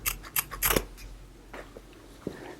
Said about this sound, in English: We're going to cut a couple of tails